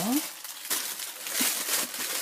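A plastic vinyl sheet is spread flat on the floor and folded in half, giving off short bursts of soft crinkling and rustling close by, with someone talking over it.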